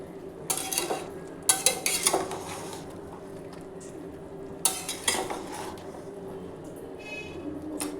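Chicken korma being stirred in a pot with the lid just lifted, giving scraping, clinking bursts of a spoon against the metal over a soft sizzle, with quiet gaps in between.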